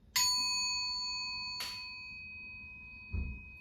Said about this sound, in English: So you can ring the bell.